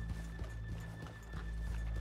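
Horse hooves clip-clopping in the video game Red Dead Redemption 2, a steady run of soft hoof thuds under a faint whinny-like tone, fairly quiet.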